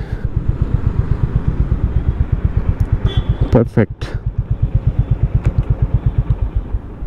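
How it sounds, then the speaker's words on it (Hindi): A Honda CB350 H'ness motorcycle on a ride, its single-cylinder engine thumping in a steady, rapid pulse close by, dipping briefly mid-way as the rider shifts before resuming; a voice speaks over it. "So this is Honda highness CB 350 for you, great bike."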